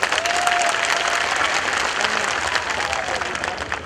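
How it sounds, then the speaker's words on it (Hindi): An audience at a Congress weavers' convention in Bhiwandi claps steadily to welcome a member of parliament, a dense, even wash of applause filling the hall for several seconds. "उनको तालियां बजाकर उनका आप स्वागत करिए"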